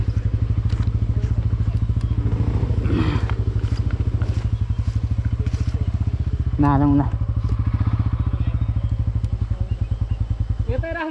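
A motorcycle engine idles steadily close by near Lekhnath, Pokhara, its rapid even pulsing running throughout while people talk over it.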